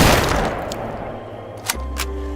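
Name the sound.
gunshots from sniper practicing at shooting range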